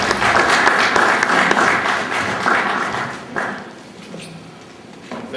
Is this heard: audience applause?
yes